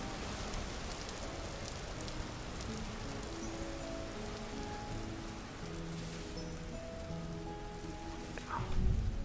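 Steady rain patters down in a Vintage Story game world, a dense, even hiss that continues throughout, with a short low thump near the end.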